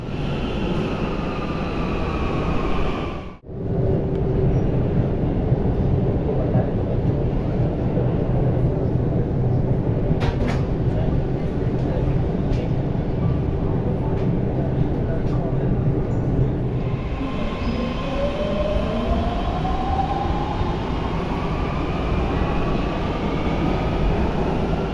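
A Mumbai metro train pulls into a station, a steady loud rumble of wheels and motor that holds for most of the stretch, with a brief dip early on and a rising whine near the end.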